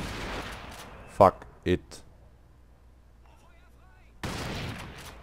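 Two sharp, loud gunshots from a sniper-style weapon in the video game Crysis, fired without a silencer in a jungle setting, spaced about half a second apart between stretches of quiet and muttered talk.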